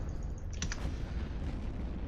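A video game explosion bursts out about halfway through, a short crackling blast over a steady loud roar of game background noise.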